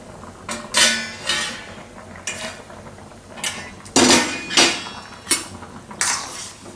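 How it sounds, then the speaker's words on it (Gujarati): Chopped ivy gourd (tindora) goes into a pot of dal for Gujarati varadiyu, with several separate bursts of clattering and rattling as pieces drop against the pot. "હવે આમાં આપણે ટીંડોરા નાખી દઈએ"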